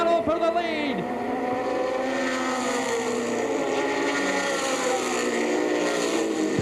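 Grand American race cars battling bumper to bumper in a heat race, several engines whining and shifting pitch as they pass, continuous and moderately loud, with an announcer talking over the action.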